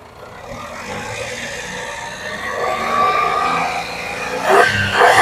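A 2014 Daihatsu Xenia's engine idles, then is revved, rising steadily in pitch and loudness before two sharper throttle blips near the end, heard alone without talk.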